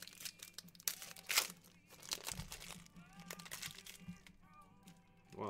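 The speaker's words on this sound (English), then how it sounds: "The reverse, the backwards rip is doing the work right now." A Panini football card pack, 2017 Phoenix, being ripped open from the back, with crinkly foil tearing and crunching in several bursts close up, alongside faint background voices.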